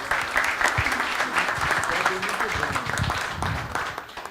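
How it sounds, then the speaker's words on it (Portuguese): An audience at a Brazilian political event applauds a speaker, a loud, dense round of clapping that carries on for a few seconds with some voices mixed in. "a quem eu peço uma salva de palmas."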